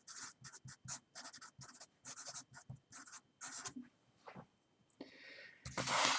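Someone writes out sums during a math lecture, each stroke a quick, close scratching burst in a busy, uneven rhythm with short pauses between them.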